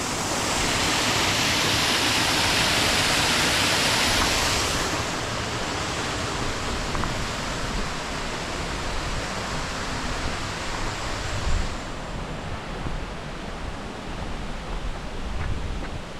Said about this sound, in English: That's a nice weir drop that.